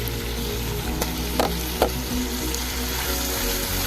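Steady loud sizzling of chicken frying in a pan, with a few soft clicks and stirring knocks, no voices.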